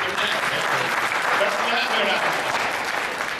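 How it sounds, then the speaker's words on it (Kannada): An audience at a religious discourse in Bangalore claps steadily, a dense, even round of applause sustained throughout at moderate loudness. "ವಿಷ್ಣು ತೀರ್ಥರಿಗೆ ಚಪ್ಪಾಳೆ ತಟ್ರಿ"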